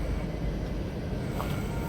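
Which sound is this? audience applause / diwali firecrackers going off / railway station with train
railway station with train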